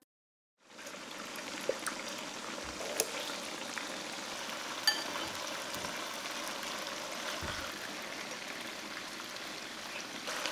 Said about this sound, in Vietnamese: Cho một ít dầu vào chảo và cho thịt đã ướp vào chiên và áp chảo trong vòng 2 phút